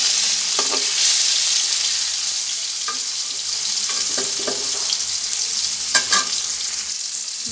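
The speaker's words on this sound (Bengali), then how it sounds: "কড়া কড়া করে ভাজি করে নেব মাছগুলো আমি" Fish pieces frying crisp in hot oil in a pan, a loud continuous close sizzle with occasional spatula clinks and scrapes as they are turned, no voices.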